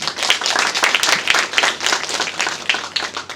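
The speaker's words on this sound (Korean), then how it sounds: "다시 한번 큰 박수 부탁드립니다" Dense, steady applause from a forum audience on climate change and Silhak scholarship, many hands clapping together at an even, sustained level with no voices over it.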